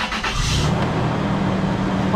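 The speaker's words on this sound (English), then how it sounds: "I'm going to start up the vehicle." 2002 Toyota engine starts up during brake master cylinder bleeding, with a brief bright burst at the start before settling into a loud, steady close-up running drone.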